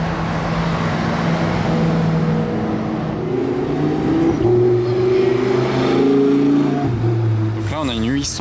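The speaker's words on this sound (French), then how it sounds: "on a la 812 Compete Aperta qui vient de démarrer devant l'hôtel de Paris." A Ferrari 812 Competizione Aperta starts outside the Hôtel de Paris, its V12 settling into a loud idle and then climbing through revs, with talk over the engine.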